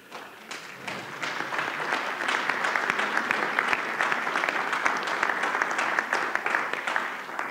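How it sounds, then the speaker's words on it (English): A church congregation bursts into sustained applause during a Sunday morning service, a steady wash of many hands clapping that builds slightly and holds at moderate volume throughout. "they applauded just at the mention of your name"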